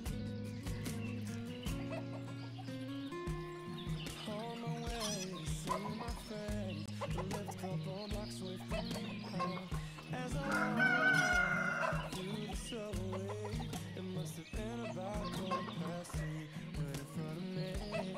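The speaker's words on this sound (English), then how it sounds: "Looks like our chickens are doing quite well" Chickens clucking and a rooster crowing in the farming game Ostriv, a steady barnyard bed of clucks with a louder crow rising mid-way over background game music.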